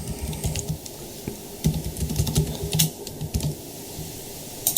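Keys clatter on a computer keyboard in short uneven bursts of typing, close and moderately loud, with no one speaking.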